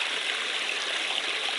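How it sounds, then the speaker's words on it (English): A stream flowing at night along the Appalachian Trail near the Blue Ridge Parkway, a steady close hiss of rushing water with no voices. "I come across the last water source."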